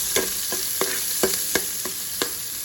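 Sliced onion fries in hot oil for fish head muri ghonto with mung dal, a steady sizzle broken by regular sharp scrapes and clicks of stirring, close and moderately loud.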